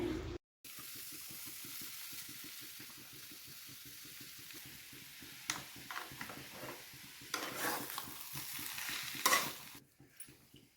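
A greens mixture is stirred and fried in a pan, a steady series of rhythmic scraping stirring strokes over a soft sizzle, close and alone without talk.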